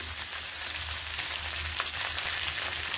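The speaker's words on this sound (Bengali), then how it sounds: "নুন ও হলুদ গুঁড়োগুলো মিশিয়ে আলুগুলোকে আমি ভেজে নেব।" Potatoes seasoned with salt and turmeric fry in a hot pan, giving a steady, even sizzle close by that holds at one level throughout, with no voices.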